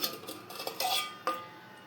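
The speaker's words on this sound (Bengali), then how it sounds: "এই যে থালা নিয়ে নিয়েছি, ছেলেকে খেতে দেবো" A metal plate is picked up for serving food, giving a few light metallic clinks and knocks up close, brief and fairly quiet.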